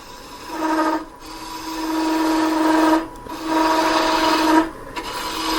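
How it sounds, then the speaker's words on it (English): A bowl gouge plunge-cuts into a spinning wooden top on a wood lathe, three sustained raspy cutting passes separated by brief pauses, close and fairly loud with a steady tonal hum underneath. "I'm using a bowl gouge for this part."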